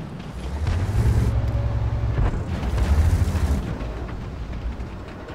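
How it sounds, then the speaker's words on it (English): Rumbling booms of cannon fire and a heavy tank engine growl roll through a World of Tanks battle, with a deep sustained rumble swelling twice across the short stretch. "I'm firing armor piercing in this"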